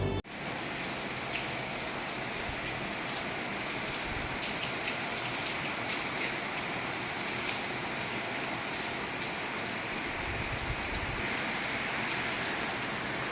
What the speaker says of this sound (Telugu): నైట్ 1:20కి వర్షం కురుస్తుంది. మంచి జోరు వర్షం.